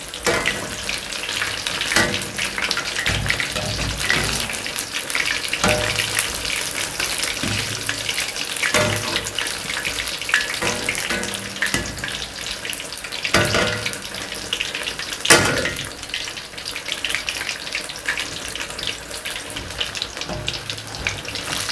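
Chicken, potato and bread pakoras deep frying in hot oil, a dense steady bubbling sizzle heard close up for the whole stretch, with occasional clinks of a utensil and no talk.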